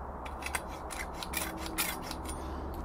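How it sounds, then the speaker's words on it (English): A conduit pipe end is being reamed by hand, giving a quiet, close scraping rasp in short repeated strokes, with no talking. "Make sure this end's reamed out."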